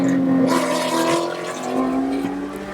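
Porsche race car accelerating hard on a track straight, a loud, close engine note rising steadily in pitch with a strong, continuous roar.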